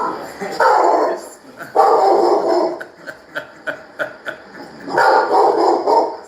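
Pet dogs barking close by in a home, loud bursts of several barks separated by short yips and whimpers.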